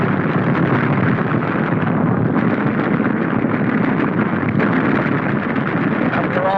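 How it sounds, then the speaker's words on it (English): A loud, rumbling rocket explosion roars on with a long, noisy wash, continuous and heavy, sounding like old 1943 battle footage. "Watch this explosion."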